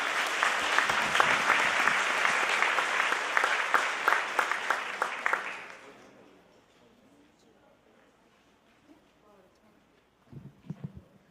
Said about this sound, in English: All right, a huge round of applause.